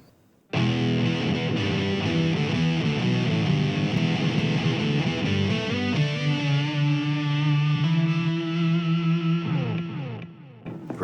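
Electric guitar played through a Fender all-in-one practice amp with an Octobot octave effect, a loud sustained run of synthy, octave-doubled notes and chords lasting about ten seconds and then cutting off.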